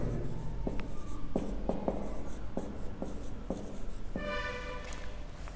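Pen scratching on paper while a math problem is written out, with a steady series of short, soft strokes and taps close to the microphone and no talk.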